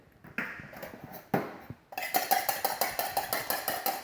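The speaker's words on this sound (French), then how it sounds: "bien mélanger l'œuf pour avoir une belle dorure" A whisk or fork beats a cracked egg in a small bowl for an egg wash, giving quick regular clinking and tapping strokes, sparse at first and then a steady fast rhythm close by, with no voices.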